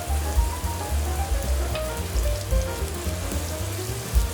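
Butter sizzles and crackles steadily in a hot pan beside filet mignon, a loud, continuous frying hiss with scattered pops and no talking.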